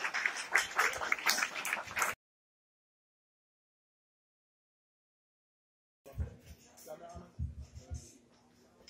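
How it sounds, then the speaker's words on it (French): An audience applauds the Haitian consul in French Guiana at a talk-show event: about two seconds of dense clapping, then a silent gap, then a voice speaking over faint room noise. "On applaudit bien fort"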